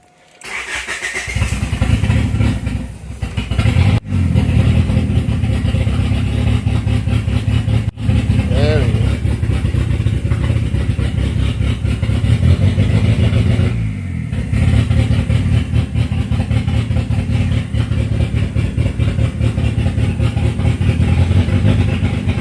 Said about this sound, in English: Start up one more time. Try and give it a little bit of gas.